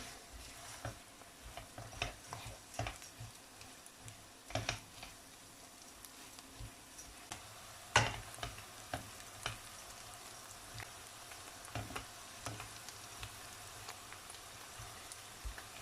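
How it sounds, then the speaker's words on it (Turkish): Rice roasting in a pan for stuffed vine leaves gives a faint, steady sizzle, broken by soft clinks and scrapes of stirring, with one sharper knock partway through. "Pirincini baya kavuruyorum. Pilav kavurur gibi."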